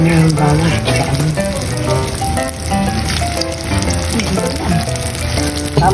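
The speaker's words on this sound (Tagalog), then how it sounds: "piprito tayo guys" Shanghai lumpia with lots of garlic fry in hot oil, giving a loud, continuous close-up sizzle with crackles and faint tonal sounds mixed in.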